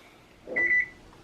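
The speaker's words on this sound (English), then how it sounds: "So now I can go ahead and turn on my oven." A single electronic beep from an oven being switched on to 375 degrees, a short clear tone preceded by a soft button press in a quiet kitchen.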